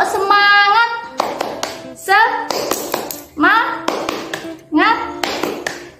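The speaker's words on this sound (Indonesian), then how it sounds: "Tepuk semangat." Schoolchildren in a primary class do a spirit clap, sharp rhythmic hand claps in quick patterned groups alternating with chanted young voices and a teacher's voice.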